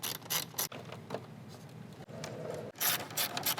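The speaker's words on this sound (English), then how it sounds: "don't forget to plug your connector back in. That positive snap means you did it right." Mechanical clicks and ratcheting snaps come from a plastic wiring connector being plugged back in on a front winch bumper installation for a 2022+ Toyota Tundra, close and quiet, in short bursts.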